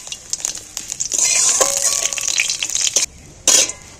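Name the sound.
dried red chilli and spices frying in oil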